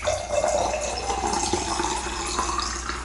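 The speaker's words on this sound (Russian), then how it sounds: "наливаем сюда воды" Water pouring steadily into a jar, a continuous splashing trickle at close range with no talk.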